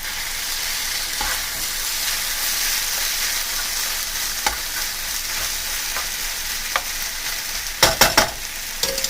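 Vegetable lo mein noodles stir-fried with green onions, a steady hiss of frying broken by spatula clicks and a cluster of sharp scraping knocks near the end, close and unaccompanied by talk.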